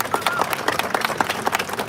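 An outdoor crowd claps for Union Square and Yerba Buena street ambassadors at a civic event, steady scattered applause with irregular sharp hand claps.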